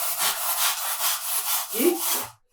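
A hand saw rasps through a curtain rail piece along a marked line, several quick back-and-forth strokes in a steady rhythm, close and loud, ending abruptly in silence.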